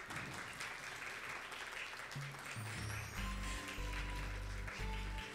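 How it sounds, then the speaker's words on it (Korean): Audience applause at an awards ceremony for an AI digital native debate and paper contest, a steady wash of clapping running throughout with low tonal music or hum swelling underneath in the second half. "다시 한번 박수 부탁드리겠습니다."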